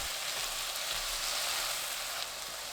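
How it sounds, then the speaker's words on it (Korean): Eggplant stir-frying in a pan with a soy-based sauce, giving a steady, close sizzle with faint scraping, and no voices. "양념 붓고 40초에서 1분 볶습니다"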